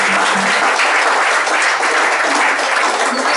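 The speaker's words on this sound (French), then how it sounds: "On va applaudir" Church congregation at a Sunday service claps steadily, a dense and loud round of applause that continues unbroken throughout.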